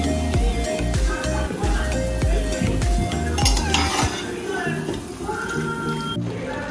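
A spoon stirs boiled rajma in a pot, scraping and clinking against the metal in irregular strokes close by, with a voice talking over it.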